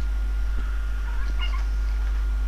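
A domestic cat meows once or twice, short, mid-loud calls over a steady electrical hum and background noise.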